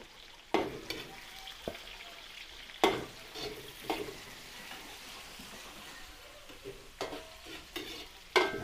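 Onion sautéing in a pan after garlic for a Filipino dish, a soft sizzle broken by several sharp scraping stirs and clinks of a utensil against the pan, close and fairly quiet.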